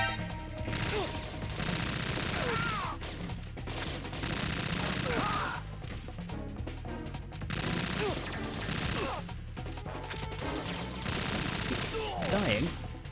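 AK rifle gunfire in Metal Gear Solid 2, bursts of rapid automatic shots in several loud volleys separated by short lulls, set against game background sound.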